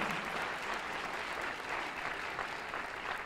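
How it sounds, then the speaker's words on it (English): An audience at a memorial service for healing and hope applauds the state attorney general, a continuous even roar of many hands clapping, somewhat distant and steady without a break. "So let's give a round of applause for our Attorney General, Tish James."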